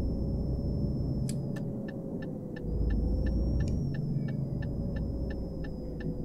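A double-decker bus engine in Euro Truck Simulator pulls out onto a Colombian mountain road with a steady low rumble and drone, joined by an even ticking indicator that clicks on and off all the way through.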